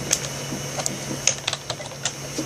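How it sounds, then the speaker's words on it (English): Light tapping on a tablet keyboard, a handful of soft, irregular clicks close to the microphone over a faint steady hum. "So let me just type in."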